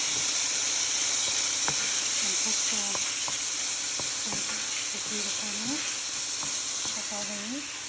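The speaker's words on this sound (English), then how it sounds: "I'm going to cook them for 3 to 4 minutes" Marinated diced shrimp sizzle steadily in a hot pan, a constant bright hiss with occasional clicks and scrapes of stirring, while a voice talks intermittently over the cooking.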